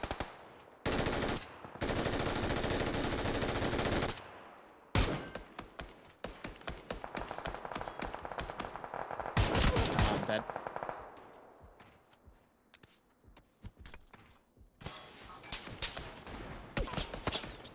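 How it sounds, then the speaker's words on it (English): Heavy automatic gunfire and scattered single shots in PUBG on console, loud bursts and rapid volleys from several directions with brief pauses, intense throughout. "They're literally getting shot from everywhere."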